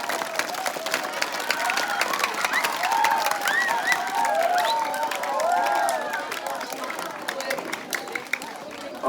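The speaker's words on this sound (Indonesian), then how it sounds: "Oke, tepuk tangan untuk kita semua." Clapping from a crowd of students and staff at the closing ceremony of a school Pancasila student profile (P5) project, steady throughout, mixed with cheering and excited voices calling out over the claps.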